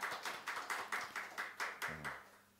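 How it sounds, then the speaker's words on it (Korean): Clapping during a Sunday church service comes as a regular, evenly spaced run of about ten claps, soft and somewhat distant, that stops abruptly and leaves a low hum. "다시 한번 박수를 보내드립니다."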